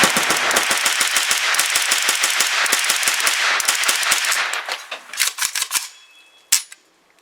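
Rapid gunfire from a 9mm KUSA KR9 carbine, a loud, dense string of shots that thins into separate cracks and a last isolated shot, then quiet.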